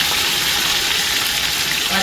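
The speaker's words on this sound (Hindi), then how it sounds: "और अराउंड 1 मिनट तक हम थोड़ा सा इसे भून लेंगे" Garlic, ginger and green chili paste with spices and meat frying in a pan for a Saudi wheat shorba soup, giving a steady, loud, broadband hiss and crackle throughout.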